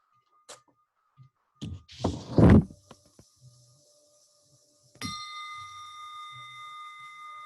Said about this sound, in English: focus your mind to this bell sound